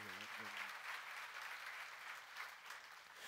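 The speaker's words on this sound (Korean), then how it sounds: "박수로 하세요" A church congregation applauds during a sermon on the Psalms, a steady, distant-sounding wash of clapping that continues throughout, with a brief voice at the very start.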